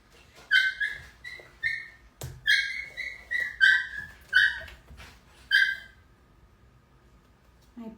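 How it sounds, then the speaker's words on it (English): Playful puppies yip, whine and squeal in a rapid run of high-pitched bursts for several seconds, fairly close, then fall quiet. "My puppies play a lot"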